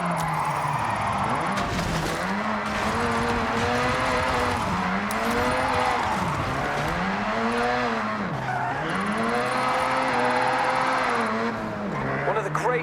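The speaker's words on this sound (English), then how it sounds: "If you don't drift with style, it's just skidding." Car drifting and skidding in the racing game Forza Horizon 6, with a revving engine rising and falling in repeated sweeps and a steady, loud screech of tires sliding throughout, while a voice talks over it.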